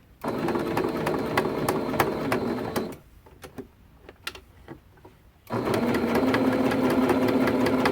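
A sewing machine stitches quilt binding with a steady, dense mechanical whir that runs for a few seconds, pauses briefly with soft handling noises, then resumes at full speed.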